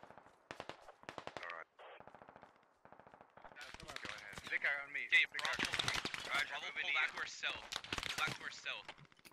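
Rapid automatic gunfire in the military shooter game Squad, bursts of cover fire crackling loudly and densely, starting sparse then building into sustained overlapping volleys.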